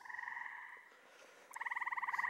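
Frogs call on a calm June night in the countryside, one pulsing trill followed by a short lull and then another rhythmic, rattling croak, moderately close with no other sounds.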